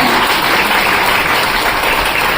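An audience claps steadily throughout, a dense even wash of applause with no voices standing out over it.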